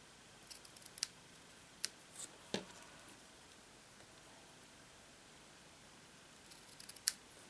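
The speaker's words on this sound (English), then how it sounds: "Let me just cut these at an angle." Scissors snip through card a few times while trimming pieces at an angle for a slider pop-up Christmas card, with sparse, quiet, crisp cuts separated by pauses.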